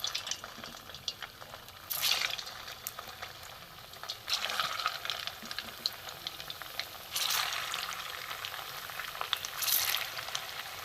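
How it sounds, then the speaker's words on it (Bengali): Puffed-rice pantua sweets frying in hot oil in a kadai over a low flame, with several sharp bursts of loud sizzling as each ball hits the oil, settling between into a quieter steady bubbling. "কড়াই আমি তেল বসিয়ে দিয়েছি, তেলও গরম হয়ে গেছে। বেশি আমি গরম করব না। এখানে আমি একটা করে ছেড়ে দেবো।"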